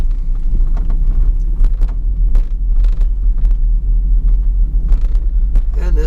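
A 2010 Ford Transit Connect van converted into a camper drives down a town street, its engine and road rumble forming a steady low drone throughout, with faint ticks and bumps above it.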